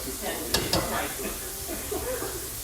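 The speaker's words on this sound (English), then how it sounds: "we're going to whisk this all together" A whisk works through a sauce of ketchup and brown sugar for ginger plum salmon, giving a steady wet swishing with a couple of sharp clinks against the bowl early on.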